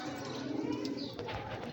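Pigeons kept by a fancier coo over a steady murmur of birds and background noise, with soft low calls repeating throughout.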